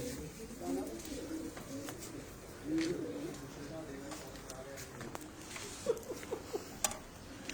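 Breeder pigeons coo and flutter softly in the background while people talk nearby, with a few sharp taps and shuffles near the end.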